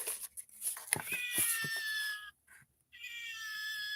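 A cat meow sound effect plays from a musical greeting card: an electronic, sliding meow-like tone, fairly clear and alone, followed by a brief gap and then a second, steadier tone.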